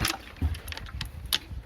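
A booster scooter engine coughs and pops irregularly while being started after its carburettor was refitted: several sharp close bursts over a low rumble.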